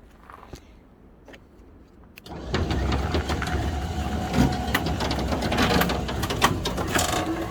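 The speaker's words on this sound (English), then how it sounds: "it's just a matter of yanking it with the good old winchy thing there" A winch strains to pull a Rover KV6 engine out of a vehicle. A loud, continuous motor drone kicks in about two seconds in, after a quieter stretch, and runs steadily to the end.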